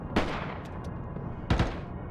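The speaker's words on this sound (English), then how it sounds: "I'm gonna use the machine gun from now on" Two sharp gunshot bursts about a second apart, from a machine gun in the modded submarine game Barotrauma, ring out over a steady background hum.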